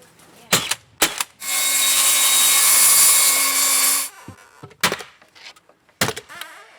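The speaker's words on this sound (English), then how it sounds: "I just gotta cut the very tip off of this batten so that I'm able to put the trim in" A power saw cuts the very tip off a wooden batten in one sustained, loud, whining burst of about three seconds, framed by sharp clicks and knocks of handling before and after.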